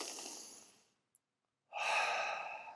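Slow deep breathing during a workout cool-down: one long close exhale, a near-silent pause, then a long audible inhale.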